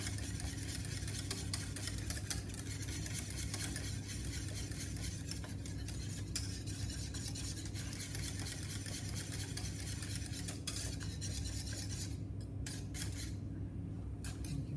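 A whisk stirs a cheese sauce for cauliflower cheese in a pan, a steady close scraping and clinking of metal against the pan under a low hum of heat, continuous throughout with no voices.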